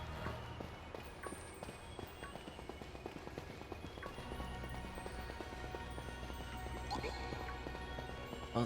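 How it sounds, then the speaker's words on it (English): Footsteps echo through a cave in Pokemon Scarlet, a dense, steady patter of many steps layered together with a hollow reverberant quality, under a low background hum. "I can hear everyone else's footsteps behind me in here."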